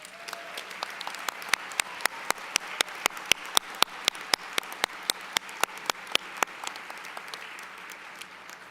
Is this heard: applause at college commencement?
yes